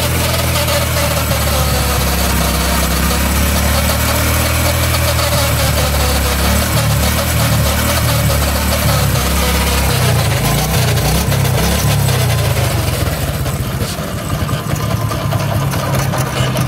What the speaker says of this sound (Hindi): इंजन की आवाज आप चेक कर सकते हैं।